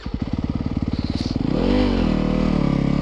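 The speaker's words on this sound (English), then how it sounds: "The 4-stroke definitely stalls a whole lot more than my 150 does." A 2024 Yamaha YZ250FX four-stroke dirt bike idles with a rapid, even thump, then the engine bogs in a low drawn-out groan and stalls out, close and loud, with no voices.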